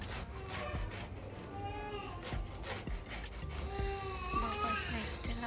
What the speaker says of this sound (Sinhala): නැට්ටත් එක්කම කපනවා.